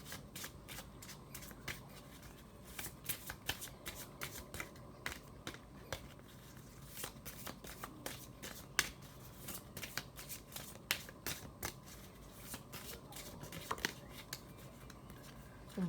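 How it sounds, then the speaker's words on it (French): Oracle cards shuffled by hand, a faint close run of crisp riffling clicks and flutters in irregular bursts, with occasional soft taps. "On va tirer une carte des oracles de la mission de vie de Dorine Virtue."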